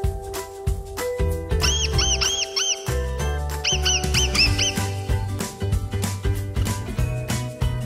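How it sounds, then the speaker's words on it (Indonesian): A pet mouse gives repeated high, thin squeaks in quick bursts of four or five, two clear clusters over a busy, bright background of tinkling tones. "Mouse."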